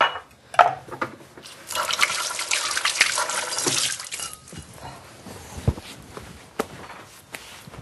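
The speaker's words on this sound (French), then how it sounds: "Alors, je vais aller me laver les mains." A kitchen tap runs for about three seconds as hands are washed after preparing a sardine butter, a close, hissing rush of water followed by footsteps and scattered clatter.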